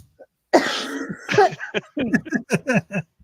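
A burst of harsh coughing, several rough coughs in quick succession, loud and close, with a short throat sound before it.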